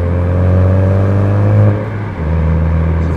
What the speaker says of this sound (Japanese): あの高速ギアチェンジで行こうか。